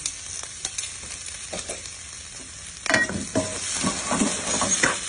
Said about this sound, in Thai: คั่วให้มันหอมให้มันเข้ากัน